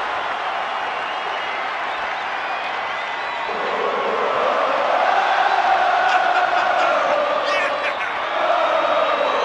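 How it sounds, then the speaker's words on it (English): Arena crowd cheering in the WWE 2K24 video game during a WrestleMania Intercontinental Championship entrance, a steady loud roar that swells midway, with commentary talk over it. "Listen to the energy in here for Sami Zayn."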